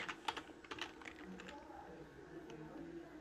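Typing on a computer keyboard while writing Python code, a few quiet, scattered key clicks close by, very faint against a low background hum.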